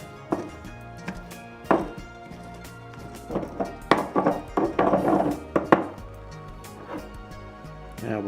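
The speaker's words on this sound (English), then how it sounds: "Take my little Molcajete thing. I'm going to crush this up." Ingredients for an avocado and basil mayonnaise are crushed in a small molcajete, giving repeated uneven thuds and grinding knocks that cluster in bursts, close and moderately loud, with no talking.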